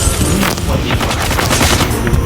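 Rapid automatic gunfire from the Call of Duty Mobile video game rattles in dense, loud bursts, close and continuous for a couple of seconds with overlapping shots.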